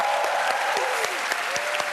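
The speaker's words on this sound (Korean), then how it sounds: "용기를 얻을 수 있게 박수 한번 쳐주세요" A studio audience at a Korean TV comedy show claps in sustained, dense applause, a loud, even wash of many hands close up for about two seconds.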